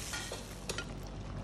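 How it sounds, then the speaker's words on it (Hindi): A sizzling pan receiving roasted cumin and spice masala gives off a continuous close hiss, with faint stirring scrapes and a couple of brief sharper crackles partway through, no talking. "लास्ट में हम डालेंगे इसमें भुना हुआ जीरा।"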